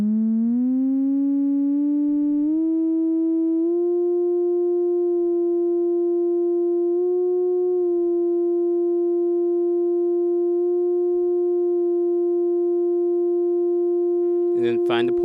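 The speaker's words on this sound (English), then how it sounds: "turning the cutoff down and then increasing the resonance until I start hearing a self-oscillation" Synthesizer filter self-oscillating at high resonance with the cutoff turned down, a pure sine-like tone rising in steps then holding steady and loud, with a brief clatter at the end.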